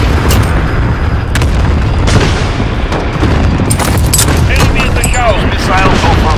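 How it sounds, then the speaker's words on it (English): Cluster strike explosions in Call of Duty: Modern Warfare roll in as a dense, continuous barrage of loud, overlapping booms, with sharper crackling bursts breaking out near the end. "good copy, cluster strike away"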